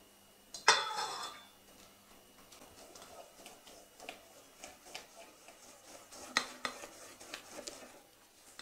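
Cooled melted butter is stirred into a rhubarb-hazelnut cake batter: one sharp clink against the bowl, then soft, irregular scraping and tapping of a utensil, close and quiet.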